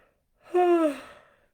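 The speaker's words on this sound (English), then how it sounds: "hang on, I'm going to yawn again." One person yawns close by in a single drawn-out breath of about a second, the voiced tone falling in pitch before trailing off into an exhale.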